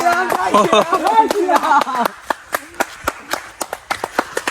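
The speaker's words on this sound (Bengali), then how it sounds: "সাপ ছাড়ানোর জন্য এখন হাততালি দিতে দিতে যাচ্ছে" Repeated hand claps to scare off snakes while walking up a hill, a steady run of sharp, close slaps, first under overlapping talk and then more distinct and evenly spaced on their own.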